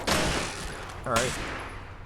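Enemy gunfire in Fallout 76 crackles in rapid bursts over a dense game soundscape, loud and steady, with a short voice-like sound in the middle.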